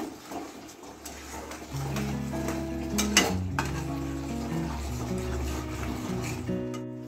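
Butter chicken gravy with turmeric sautés in a pan, stirred steadily with scraping spoon strokes over a continuous soft sizzle, a louder clatter near the middle and a steady low tonal hum underneath.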